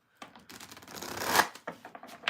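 A deck of cards being shuffled during a tarot reading, a short burst of riffling that builds to a loud snap, followed by a few softer shuffles, close and with no voices.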